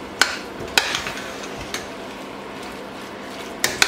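A large pot of chicken vegetable rice cooked for a whole village is stirred, giving a few scattered scraping knocks against a steady bubbling, sizzling background.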